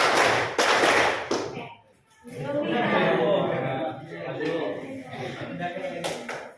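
Several close, sharp hand claps in a quick pattern during a classroom arts lesson, followed by a teacher speaking over faint children's chatter.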